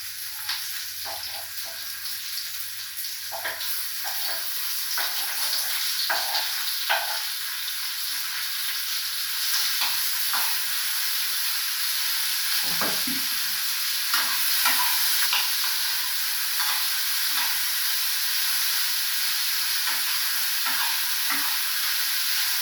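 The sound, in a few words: tomatoes sizzling while being stir-fried in a pan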